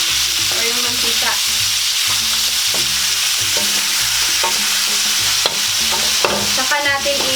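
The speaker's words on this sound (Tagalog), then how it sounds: "piprituhin po natin siya hanggang sa lumabas yung kanyang taba o yung mantika." Pork sizzles and spits steadily in hot oil as it fries down to render its fat, with stirring clatters and scraping in the pan throughout. The sizzle is loud and close, with no voices.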